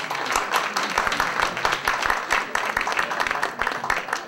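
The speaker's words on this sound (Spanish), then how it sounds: "Un aplauso para ella, por favor." Applause from an audience at a law faculty panel discussion, dense crowd clapping with sharp individual claps sprinkled through, steady and moderately loud for several seconds.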